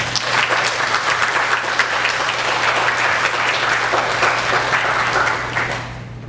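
A church congregation claps to welcome visitors during a Sunday worship service, sustained, even applause from many hands filling the room, steady for several seconds before tapering off at the end.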